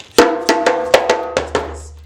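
A djembe struck in a quick pattern of about seven sharp hits, mixing flams, ringing tones, crisp slaps and a deep bass thump, played alone and close.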